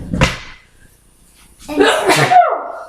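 A sharp sneeze bursts out, followed after a brief pause by a person speaking.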